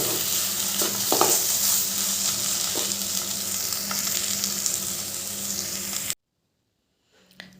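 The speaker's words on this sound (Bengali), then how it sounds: "এবার একটু নেড়ে চেড়ে ধনে পাতাগুলো মিশিয়ে দেব" Tomato and egg dish sizzling in a pan while coriander leaves are stirred in, a steady loud frying hiss with occasional utensil scrapes, cutting to near silence near the end.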